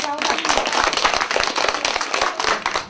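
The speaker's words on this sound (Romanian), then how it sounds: "Hai, aplaudați!" Studio audience applauding on a Romanian television talk show after a performance, a dense, steady wash of many hands clapping close and loud, with a faint voice near the start.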